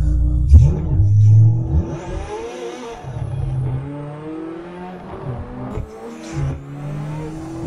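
A Ferrari engine revs hard under throttle as the rear slides, a loud close growl with rising and falling pitch sweeps, easing off into a lower drone, then climbing again.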